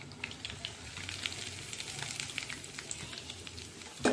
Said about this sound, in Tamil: இது நல்லா ஃப்ரை ஆகணும்.